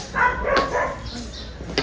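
Dogs in a backyard bark after fighting a cobra: a few close, sharp barks and yips in quick succession, ending with a brief final yelp.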